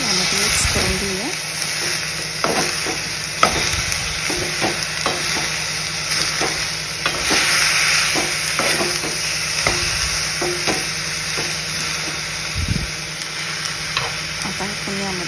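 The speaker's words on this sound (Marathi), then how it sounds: "लांब कट करून घेतलेले आहे आणि याला आता आपण यामध्ये मिक्स करून घेऊया।" Sliced tomatoes stirred into ivy gourd chutney in a hot pan, a steady sizzle with scraping spatula strokes and occasional clinks against the pan throughout, close by.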